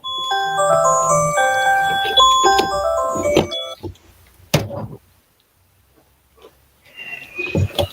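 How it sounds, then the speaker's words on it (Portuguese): An electronic alarm beeps in a rapid run of high tonal chirps, loud and close, followed by quieter knocks and a voice. "Que tem um alarme aqui me mandando."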